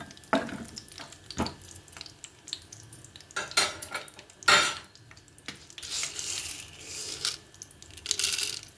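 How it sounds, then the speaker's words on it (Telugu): Peanuts drop into hot oil in a kadai with scattered clinks and rattles against the metal pan, followed by a soft hiss of frying and occasional stirring scrapes. "కళాయి పెట్టాను. ఒక 3 స్పూన్ల ఆయిల్ వేసానండి. దీనిలో పల్లీలు వేస్తున్నాను."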